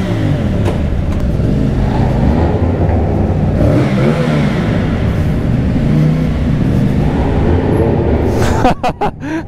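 CF Moto 450CL-C cruiser motorcycle engine revving while riding, a loud continuous rasping drone with rising and falling pitch sweeps, ending in a few sharp bursts.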